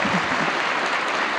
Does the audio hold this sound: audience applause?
yes